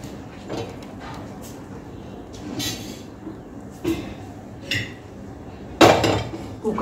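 Pots and a pressure cooker being handled in a home kitchen while setting potatoes to boil, giving scattered metallic clanks and clinks at a moderate distance, with one louder clatter near the end.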